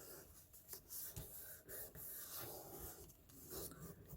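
Adhesive chipboard photo frame pieces are burnished by hand, producing quiet, close, scratchy rubbing strokes that come in short repeated bursts.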